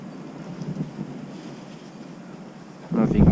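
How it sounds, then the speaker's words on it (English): Wind whips around outdoors during spring assembly on a Rhino, buffeting the microphone with low, uneven rumbling gusts that swell sharply near the end. "I don't know if you guys can hear the wind,"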